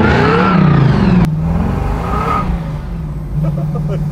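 Big-block 1971 Chevy Camaro restomod with a blower, running 285 rear tires, revs loud and close while a tire spins, the engine note rising and then holding steady, with some voice sounds faintly mixed in.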